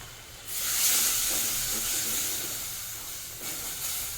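Spinach curry bubbling and simmering in a pan on a stove, a steady steamy hiss with a soft bubbling texture, moderately close and continuous, with no talking.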